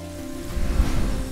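Potatoes frying in a pan until golden, a brief steady sizzle and crackle of hot oil, close and moderately loud with no voices.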